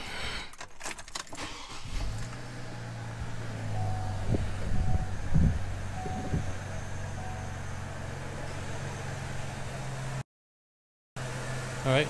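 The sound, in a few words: Chevrolet Trailblazer engine running after throttle body cleaning and K&N filter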